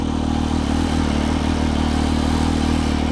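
A 2003 Benelli Tornado Tre 900 Limited Edition three-cylinder motorcycle with a dry clutch and a very loud exhaust pipe, revving hard and holding a steady, close, throbbing roar with a clattering edge throughout.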